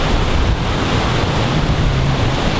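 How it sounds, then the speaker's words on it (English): A strong northerly gale blows across a carp syndicate lake on a cold morning, roaring and buffeting the microphone with a loud, constant rush that never lets up, with no voices heard. "absolutely blown a gale now, really strong northerly wind"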